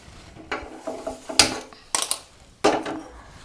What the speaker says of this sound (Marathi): आता आपल्याला हे पातेलं गॅसवर ठेवून घ्यायचंय.